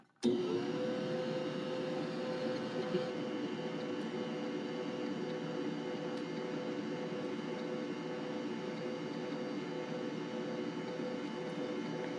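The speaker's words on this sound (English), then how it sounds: "when I turn this mixer on, you can't hear me" An electric mixer whirs steadily while it beats coconut cake batter, starting abruptly and then holding a loud, even motor hum with a whining tone throughout, with no voices.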